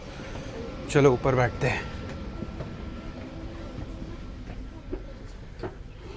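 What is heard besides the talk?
train passing in Monaco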